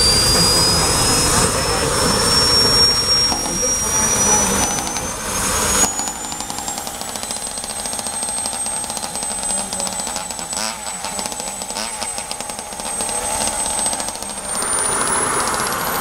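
A small RC mini tractor engine running on a bit of natural gas at a micropulling event runs steadily with a high, rising whine, its droning noise continuing throughout with slight changes in pitch.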